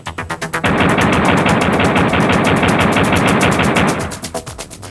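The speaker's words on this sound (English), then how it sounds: "return to the game and fire some bullets." Rapid, continuous automatic gunfire from Duke's weapon in a Nintendo 64 game, dense and loud for several seconds and framed by slower, separate shots at the start and end.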